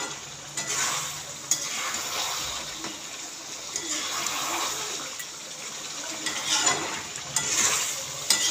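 Chicken pieces being stir-fried in a pan give a faint, steady sizzle, broken by irregular scraping and clattering strokes of a spatula that swell and fade, with no clear talk.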